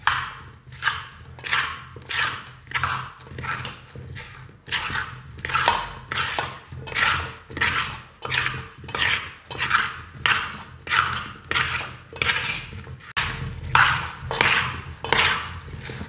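Cauliflower pickle is tossed with mustard oil and spices in a steady, rhythmic series of wet, squelching mixing strokes, close and even, repeating about twice a second throughout.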